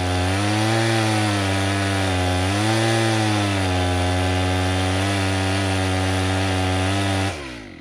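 A brand-new chainsaw with a dull chain cuts through wood, its engine snarling loud and steady with slight pitch dips as the bar bogs in the cut, then dropping off sharply just before the end.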